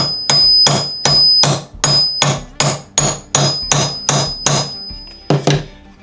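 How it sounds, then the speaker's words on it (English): A hammer strikes the end of a screw about a dozen times in a steady rhythm, peening it over, each blow sharp and ringing, with a short pause before the last hit. "Now I'm going to wail on this with the hammer to try to peen the end of that screw over."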